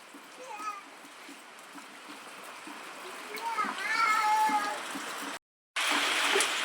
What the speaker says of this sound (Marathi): सकाळी सकाळी झालाय पाऊस चालू